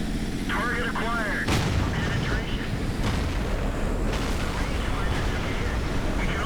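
Heavy tank cannons boom repeatedly in a tank battle video game, several sharp blasts with rumbling tails over constant engine and battle noise, with a voice talking over parts of it.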